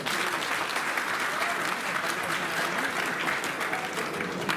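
Dense, steady applause from a large crowd at a rally of Delhi electricity workers and sanitation unions, a continuous wash of clapping that holds evenly for several seconds with faint crowd voices beneath.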